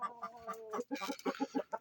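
Chickens clucking in a backyard coop, a steady run of short repeated clucks with a squawk midway, close by and fairly quiet, no talk.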